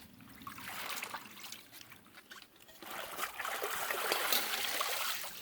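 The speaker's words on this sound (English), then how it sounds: "I'm just going to go ahead and give it a real nice wash" Running water splashes and trickles steadily over callaloo leaves as they are washed by hand, a close, continuous wash of liquid sound that swells louder in the second half, with no voices.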